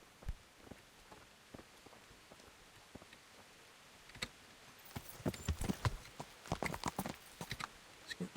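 Horse hooves in the video game Kingdom Come: Deliverance clip-clop in a steady walking rhythm, faint and sparse at first, then louder and quicker, with no talking.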